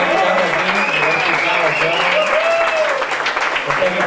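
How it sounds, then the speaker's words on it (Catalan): A concert audience at a guitar event applauds a guitarist, a dense, loud, continuous wash of clapping with voices mixed into the crowd noise. "Així doncs, ho aplaudim per Toni Castarlenas."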